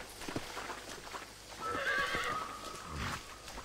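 A horse in the video game Red Dead Redemption whinnies once in a long, wavering neigh, with a few hoof clops before and after, moderately close.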